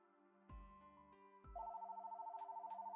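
A phone ringtone sounds in a room during a Powerwash Simulator gaming session. A couple of soft knocks come first, then a steady, rapidly pulsing electronic ring repeats close and clear, with no talking.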